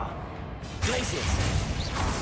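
An ice spell from the Glacius charm in the Hogwarts Legacy video game: after a short lull comes a loud, broadband crackling burst that holds steady for over a second, with scattered clinks and whooshes and game effects layered through it.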